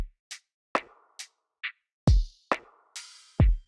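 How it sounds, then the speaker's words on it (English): Lo-fi drum beat with kick, snare and closed hats, where a sustained open hi-hat rings out over a couple of the hits, dry and close with no voices. "Down here we have an open hat to give it more bounce."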